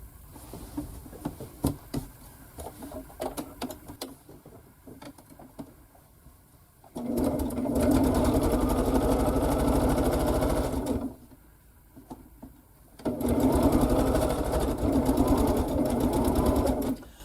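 A sewing machine stitches dark quilt pieces together at a quarter-inch seam, running in two long steady bursts separated by a quieter pause.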